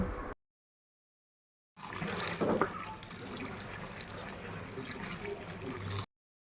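Raw mango pieces are rinsed under water: a steady, moderately loud splashing and trickling stream starts after a short pause and keeps on for about four seconds.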